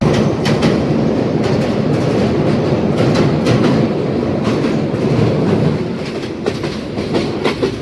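A loud train, the 711 Upakul Express from Noakhali toward Dhaka, rumbles past on the rails, wheels clacking in a rhythmic beat over a steady roar.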